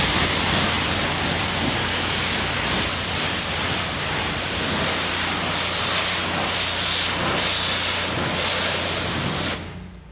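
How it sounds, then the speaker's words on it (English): A pressure washer rinses a car's painted panels after a wet-coat sealant is applied. A loud, steady spray hiss runs unbroken for about nine seconds, then cuts off abruptly. "see if it evens out when the pressure washer turns back on"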